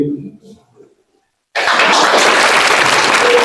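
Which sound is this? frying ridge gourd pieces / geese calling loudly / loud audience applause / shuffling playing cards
loud audience applause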